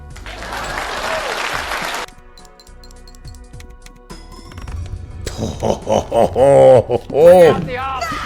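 A short burst of applause lasting about two seconds cuts off abruptly, followed by soft chiming tones and then someone talking.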